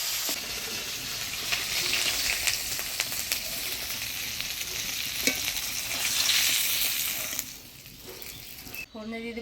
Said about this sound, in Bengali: ফোড়নে দিয়ে দেবো কালো জিরা কাঁচা লঙ্কা